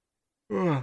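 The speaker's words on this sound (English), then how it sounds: "Sorry, don't mean to yawn." A man yawns once in a single drawn-out, breathy exhale that swells and then fades, close to the listener, with no talking.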